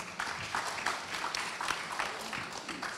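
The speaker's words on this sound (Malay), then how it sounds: "Kita berikan tepukan" An audience claps steadily, a dense patter of many hands that holds at an even, moderate level throughout.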